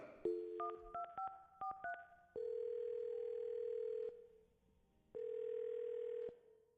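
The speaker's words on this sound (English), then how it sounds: "I'm going to dial his phone number right now" A telephone sounds dialing tones as a number is dialed, a quick run of short tones followed by two long steady ringback tones separated by a pause, faint and clean.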